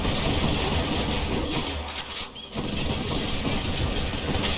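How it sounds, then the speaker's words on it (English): Explosions from the action game Hades during a lightning-focused Zeus rail build, dense layered blasts and crackling bursts rolling continuously and loudly, briefly dipping midway before resuming. "It does look impressive, right? With all of these explosions going on here."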